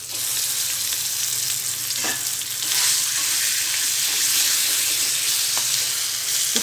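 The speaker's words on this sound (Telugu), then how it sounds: "తాలింపు ఫ్రై అయిన తర్వాత ముందుగా నురుక్కున్న పచ్చడి వేసుకోవాలి." Ground brinjal and mint chutney hits a hot pan of frying tempering with seeds, garlic, dried red chillies and curry leaves, giving a steady close sizzle with a few sharper crackles, no voices.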